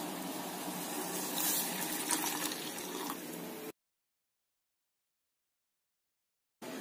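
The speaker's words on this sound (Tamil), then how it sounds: "இந்த டைம்ல பால் ஊத்திடலாம்." Milk pours steadily into simmering masala tea with a continuous liquid rush, then cuts to silence before the sound briefly returns.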